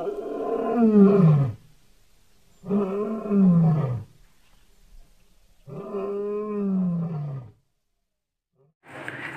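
A lion roars three times in long, deep, throaty bursts with pauses between, loud and close, the last cut short.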